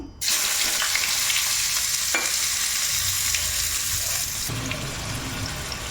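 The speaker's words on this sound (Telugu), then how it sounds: "ఆయిల్ అయితే హీట్ ఎక్కింది ఫ్రెండ్స్ ఇప్పుడు నేను దీంట్లోకి ఆనియన్స్ యాడ్ చేస్తున్నాను" Onions go into hot oil in a pan and fry with a loud, continuous sizzle, a sharp hiss at the start settling into steady crackling.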